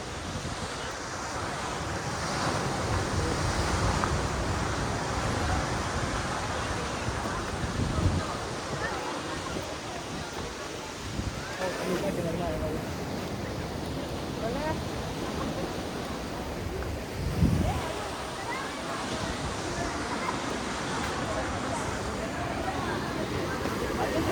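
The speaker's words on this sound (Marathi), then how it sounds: "हाय बघा कशेळी बीच" Wind and surf at Kasheli beach on the Konkan coast, a steady broad roar of breaking waves with gusts buffeting the microphone throughout, continuous and fairly close.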